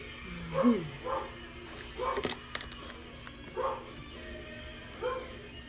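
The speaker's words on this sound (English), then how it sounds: "That's how loud her bark is." A Labrador pit bull mix barks from across a house, five or six distinct, fairly faint woofs spaced about a second apart, with whimpery tones between them.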